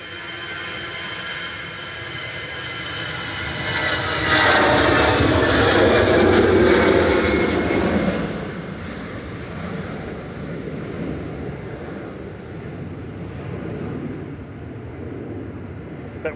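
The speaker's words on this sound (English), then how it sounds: "This is the EasyJet to Basel that Thierry mentioned, departing now" An EasyJet jet airliner departs Manchester Airport bound for Basel: a jet roar builds, peaks loudly for a few seconds, then fades into a lingering distant rumble, with no talk.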